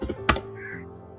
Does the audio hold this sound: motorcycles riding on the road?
no